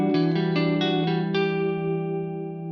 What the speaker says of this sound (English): There's a lot of sustain, but it has a immediate attack, and you could hear like that from the reverb.